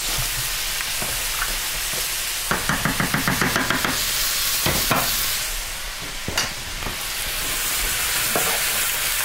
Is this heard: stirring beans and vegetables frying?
yes